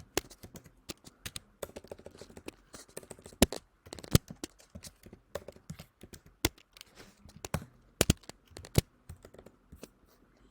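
Rapid, irregular keyboard clatter as JavaScript code is typed on a computer keyboard, close and moderately loud, with bursts of keystrokes and short pauses, no voice.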